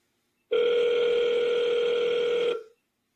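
A single steady telephone tone sounds for about two seconds while calling someone, loud and close, then stops.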